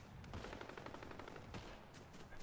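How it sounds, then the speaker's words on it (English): Rapid bursts of automatic gunfire crackle from a distance in a video game, a steady string of faint, repeated shots rattling for a couple of seconds without talk. "there's gunfire over there, but I don't know where it is."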